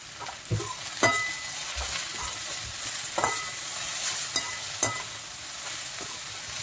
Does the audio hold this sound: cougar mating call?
no